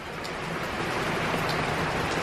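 Outdoor rain falls beside a barbecue smoker as pork ribs cook, a soft even hiss of drops that stays faint and steady without talk.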